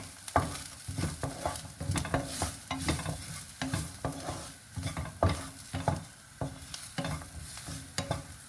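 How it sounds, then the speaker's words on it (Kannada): A spoon stirs turmeric powder into an oats mixture in a pan with a steady, repeated scraping rhythm, close and moderately quiet, under a light sizzle and with no speech. "ಅದನ್ನೆಲ್ಲ ಮಿಕ್ಸ್ ಮಾಡ್ಕೊಳ್ಳೋಣ"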